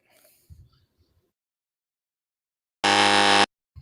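Game show buzzer blaring once in a single loud, harsh burst lasting over half a second, after a few soft scattered noises and otherwise quiet.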